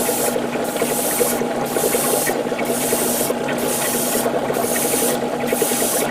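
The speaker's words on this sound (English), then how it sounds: "And now we spray and pray." An airbrush fitted with a 0.5 needle sprays paint onto a Real Grade Gundam Epyon model kit in short, evenly spaced hissing bursts, about one per second, close and steady over a low mechanical hum.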